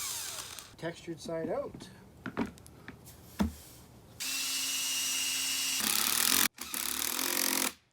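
A power drill drives screws into a wooden raised planter box in several short bursts and then longer sustained runs, loud and close, with brief instructional speech at the start.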